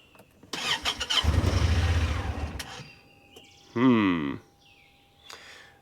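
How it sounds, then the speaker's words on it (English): Engine of a side-by-side UTV bought at auction as inoperable cranking and catching after stalling, a loud rough burst lasting about two seconds, then a brief rising whine, with no talk. "I should be able to restart it with the brake."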